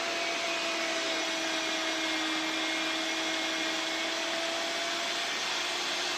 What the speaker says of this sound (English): I gotta dry them out with my dying shop vac